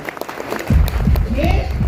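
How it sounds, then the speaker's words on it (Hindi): Applause from an audience at a monthly business meeting bursts in after a brief stretch of talk and continues as dense, steady clapping to the end, with a voice speaking over it. "जोरदार तालियां"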